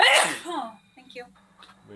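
A single close, loud sneeze bursts out at the start, then people chat casually in a relaxed voice.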